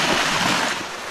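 Sea waves rush and wash close by along the shore in a loud, continuous broadband surge with a breath of wind and no voices.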